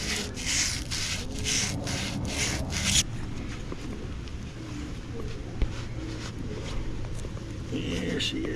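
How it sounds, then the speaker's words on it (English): Sandpaper, with a little WD-40, rubs back and forth on a trailer hub spindle in close, rhythmic strokes for about three seconds, followed by quieter handling and faint shuffling. "Might sand that a little bit more."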